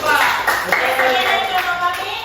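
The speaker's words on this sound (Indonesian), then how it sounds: "beri aplaus kepada kelompok 4" A classroom of students applauds a student group with a burst of lively, dense clapping close by, mixed with children's voices.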